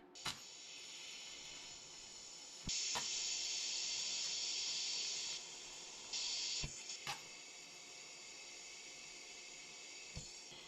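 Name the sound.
welding tent stove legs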